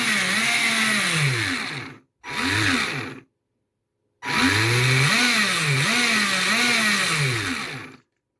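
A Tamiya Sand Viper RC car's electric motor whines in three close bursts of throttle, pitch swooping up and down with each squeeze, separated by short silences, the last burst longest and wavering.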